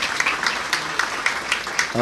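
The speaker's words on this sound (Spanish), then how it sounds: "pido un aplauso para él" Scattered, fairly steady claps from a lecture audience at a talk on the Jewish roots of Matthew's Gospel, coming in a loose repeating rhythm with voices murmuring underneath.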